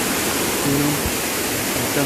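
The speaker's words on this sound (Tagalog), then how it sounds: "Ang lakas ng tubig." Loud, steady rushing water from the waterfall at Hidden Falls fills the scene up close, with a brief voice over it.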